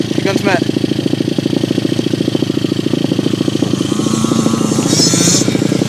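A Yamaha YZ80 dirt bike engine runs close by with a loud, rapid putter, revving a little toward the end while a person talks over it.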